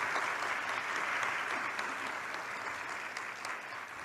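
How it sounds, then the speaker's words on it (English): Audience applause at a university presidential welcome ceremony at Norfolk State, a dense, sustained round of clapping filling the hall at an even level throughout. "Round of applause."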